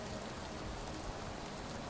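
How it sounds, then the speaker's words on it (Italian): Rain in the Cyberpunk video game, a steady dense hiss of falling drops, fairly quiet and unbroken, with no voices. "Pigliamoci un po' di pioggia."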